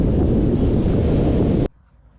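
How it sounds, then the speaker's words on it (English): Strong wind roars against the microphone in a loud, rumbling rush for under two seconds, then cuts off abruptly, at Captain Billy Landing on Cape York. "It is windy."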